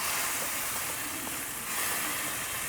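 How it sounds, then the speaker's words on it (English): White wine hits a hot pan while deglazing, giving a steady, close, broadband sizzle and hiss that holds at an even level throughout with no talking. "Love that sizzle."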